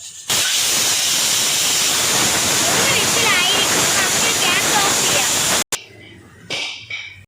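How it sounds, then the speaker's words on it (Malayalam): A pressure cooker vents on country chicken cooking for a Kerala-style curry, a loud continuous rushing steam hiss lasting about five seconds before cutting off abruptly, followed by quieter kitchen noise. "നാടൻ ചിക്കനിൽ വിസിൽ വരുന്നുണ്ട്"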